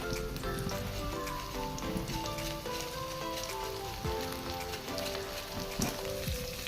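Onion and crushed chili sizzling in coconut oil, a steady close crackle and hiss of frying that runs unbroken and fairly loud throughout.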